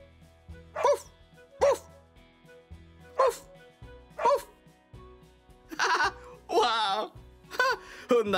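A person's voice imitates a dog barking with a series of short, bright woofs at a steady rhythm, ending in longer, wavering yelps over soft background music.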